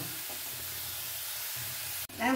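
Broccoli curry with sugar sautés in an uncovered pan, giving a soft, even sizzle and hiss under occasional low stirring thumps, then a sharp clack and a brief louder scrape at the very end.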